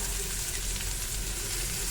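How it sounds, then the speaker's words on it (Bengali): Chopped onion frying in hot oil in a pot, a loud, steady, close crackling sizzle that fills the whole moment without pause. "পরে আমি কিন্তু পাতিলে আবারও তেল দিয়ে দিয়েছি। এখন এর ভিতরে দিয়ে দেব হচ্ছে পেঁয়াজ কুচি।"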